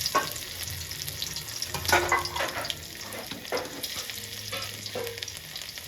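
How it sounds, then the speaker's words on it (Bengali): Oil sizzles steadily in a pan as chopped garlic fries, with occasional scraping and stirring sounds up close. "দিয়ে দিচ্ছি রসুন কুচি"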